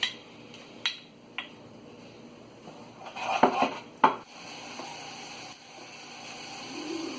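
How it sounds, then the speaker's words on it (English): Leftover curry spice mixture sautéing in a little oil in a saucepan, with a spoon clinking and scraping against the pan and a faint low sizzle underneath, close by and without talk. "In a saucepan, I have a little bit of oil. I'm just gonna saute this leftover mixture that we made earlier for the beef."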